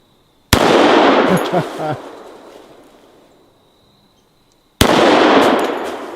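A double-barrel 1911 pistol fires loud, close gunshots at a bowling pin. Two sharp blasts sit about four seconds apart, the first ringing out and fading slowly, with a brief metallic clatter just after it.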